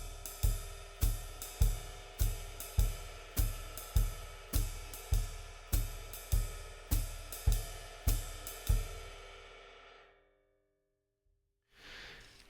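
A steady jazz drum pattern, regular evenly spaced hits with a soft low thump on each beat from a lightly feathered bass drum played heel down, and a cymbal wash above, then ringing out to silence.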